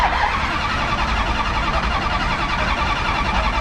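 A 1971 Plymouth Duster with a 360 V8 runs loud and close, giving a dense, steady rumble throughout with no talking.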